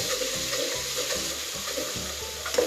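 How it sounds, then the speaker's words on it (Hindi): Garlic ginger paste fries with onion in hot oil for aloo gobhi, a continuous close sizzle and crackle with a few soft stirring knocks. "अब जी इसके अंदर मैं 2 चम्मच लहसुन अदरक का पेस्ट ऐड करती हूँ।"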